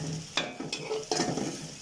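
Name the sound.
onions frying red for fish curry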